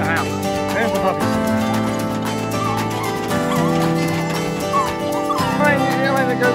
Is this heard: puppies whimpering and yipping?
yes